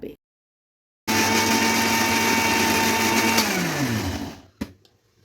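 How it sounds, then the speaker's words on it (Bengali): Kitchen blender whirring steadily as oil is blended into homemade mayonnaise with raw egg, loud and close after a brief silence, its motor pitch sliding down as it spins to a stop, followed by a short clack. "এখন এটাকে আমি ধীরে ধীরে মিলাবো এবং ব্লেন্ড করতে থাকবো"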